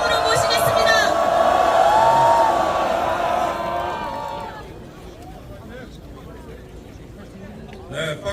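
An outdoor crowd at a candlelight rally on the steps of the National Assembly building, calling for impeachment, cheers and applauds loudly for about four seconds, then the roar fades to a low murmur of voices.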